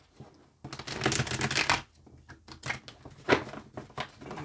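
Tarot cards are shuffled by hand close up in quick riffling bursts, a soft flurry of papery slaps and flutters, then a short pause before a few more shuffles.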